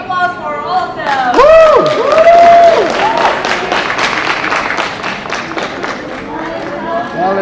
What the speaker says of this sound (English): Give a big applause for all of them.